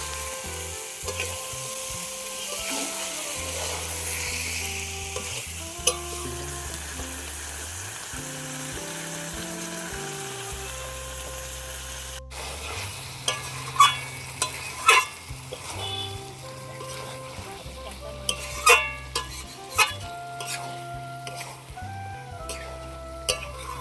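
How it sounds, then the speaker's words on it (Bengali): Chicken and spice paste frying in oil in a pan while being stirred, giving a steady loud sizzle with occasional scraping and clinks, under tonal background music. "মশলাটা তেল ছাড়া পর্যন্ত কষে নেব। তেল ছেড়ে দিয়েছে। এবার মাংসটা দিয়ে দেবো।"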